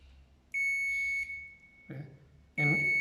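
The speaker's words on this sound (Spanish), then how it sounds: "en continuidad me va a dar una alarma" A digital multimeter set to continuity gives a steady, piercing electronic beep, two clear tones about two seconds apart. A brief voice is heard between them while a circuit for an engine starter is being tested.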